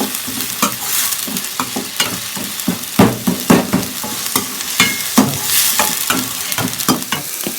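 Ginger-garlic paste fries in a pan as the base for a goat intestine gravy, with a loud, close sizzle broken by frequent rhythmic scraping strokes of a spoon stirring it, and no voices.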